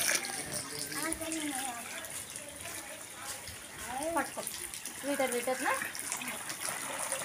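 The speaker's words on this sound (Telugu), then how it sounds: "చాలా వేడిగా ఉన్నాయి చల్ల వాటర్ వేసి." Cold water gushes and splashes steadily into hot bath water in a village home, running continuously at moderate loudness while voices talk over it.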